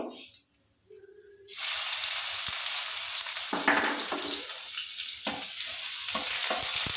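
Loud, hissing sizzle as garlic, dry chillies and black cumin hit hot oil, with stirring and spattering, nearby and continuous; someone talks over it.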